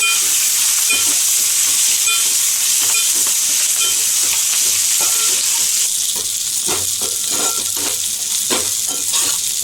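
Drumstick leaves sautéing in a pan give a steady, close sizzle with soft stirring scrapes throughout, no voices.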